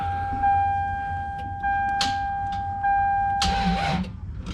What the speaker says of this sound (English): I'm just gonna make sure that the starter turns over